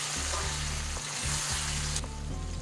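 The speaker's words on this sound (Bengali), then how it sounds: "এই সময় আমি একটু গরম জল দিয়ে দেবো" Warm water poured into a pan of spicy chicken masala frying in oil, a loud continuous close sizzle and hiss with a faint stirring scrape, the sound shifting as the liquid hits the hot pan.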